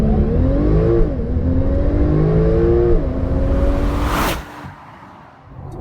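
A 2017 Porsche 911 Turbo S with a 7-speed PDK gearbox launches under launch control, its engine roaring loudly and climbing in pitch through quick gear shifts before the sound fades away.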